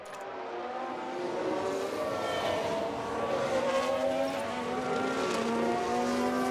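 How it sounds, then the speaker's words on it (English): An F1 car in the video game F1 Manager 2022 at the Miami Grand Prix, its engine droning steadily at speed over a broad rushing noise, loud and continuous with no talk. "I think that was a crash."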